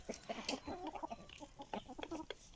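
Aseel roosters cluck softly in a shared coop, short scattered calls and faint clucks at low volume, with no talking.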